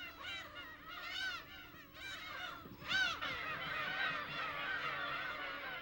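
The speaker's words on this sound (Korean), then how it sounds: "취재팀은 이곳에서 괭이 갈매기 사이를 날아가는 노랑부리 백로를 발견했다." Black-tailed gulls call repeatedly in a noisy colony on a rocky island, with yellow-billed egrets among them, harsh mewing cries overlapping in rapid bursts, some near and loud, others farther off.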